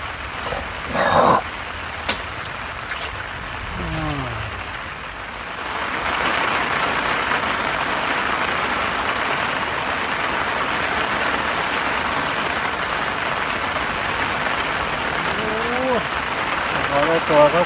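Steady rain hiss falls over a fishing pond at Ang Dok Krai during a Ching Liu fishing trip, broad and continuous from about six seconds onward, with someone talking briefly before it.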